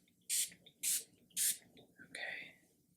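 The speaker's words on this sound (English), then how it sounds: "And then we're just going to spray." A handheld spray bottle, shaken beforehand, releases three sharp, close misting bursts in even succession during a quiet, soft-spoken candle-making session meant to cleanse the space, followed by a softer, longer hiss.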